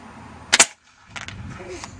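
An airsoft M136 rocket launcher powered by CO2 firing a charge of BBs outdoors, a sharp double-peaked blast followed by a brief hush and then lighter scattered rustles and clicks nearby.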